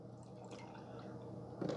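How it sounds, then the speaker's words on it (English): Milk pours into a Keurig K-Cafe milk frother as a quiet, continuous trickle of liquid, faint and close, with a slight louder splash near the end. "let's pour our milk in"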